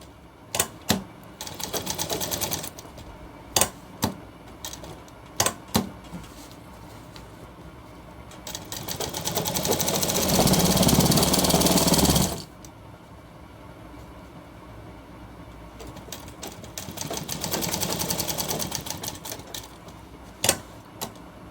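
A sewing machine stitches a shirt cuff, with one long steady run of rapid stitching in the middle and a fainter later stretch, set among sharp scattered clicks and handling noises.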